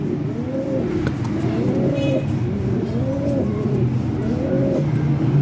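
Pigeons in a small cage coo in repeated low, rolling calls that continue steadily throughout, close by, with faint background noise and no talking.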